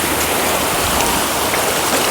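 A forest river babbles and rushes steadily over its bed during light rain, a continuous broadband wash of flowing water heard up close with no voices.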